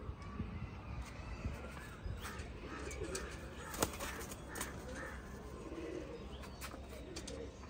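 Pigeons kept by a breeder cooing softly amid other bird chirps, faint and somewhat distant, with scattered clicks and handling noises over a low outdoor background.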